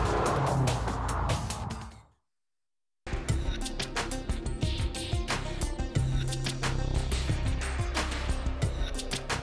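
A Mitsubishi Lancer Evo roars loud and close with engine and road noise, cutting out briefly before surging back in a dense, sustained drive with tire noise.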